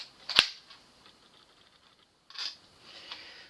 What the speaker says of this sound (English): We're going to pull the bolt back to the rear, drop around in the chamber.